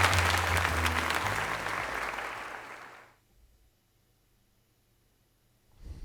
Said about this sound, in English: let us give another heartfelt round of applause to Blobber